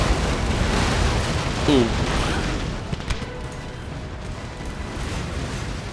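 Naval cannons boom and shells burst in a Napoleon: Total War sea battle, a dense rumbling barrage with a sharper blast near the middle, while a man reacts with a brief exclamation.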